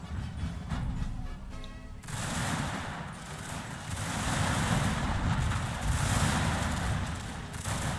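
Infantry volleys ring out in Shogun 2: Fall of the Samurai as crackling rifle fire rolls over a dense rumbling battlefield bed. The gunfire swells in a continuous fusillade after the first couple of seconds, with no talk.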